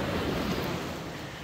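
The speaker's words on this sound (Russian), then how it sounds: "Океан очень спокойный." Calm ocean surf at Palm Beach on a sunny morning, a steady soft wash of waves with light wind noise, continuous and even throughout with no voices.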